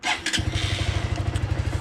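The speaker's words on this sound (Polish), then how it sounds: "Odpalimy go. Odpala się oczywiście szybko." A Junak M12 Vintage motorcycle's small engine cranks and catches, then settles into a quick, rhythmic idle putter, close by and fairly loud.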